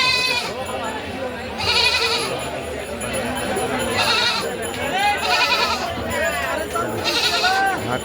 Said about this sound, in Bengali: অনেক অনেক ছাগল এখানে পাওয়া যায়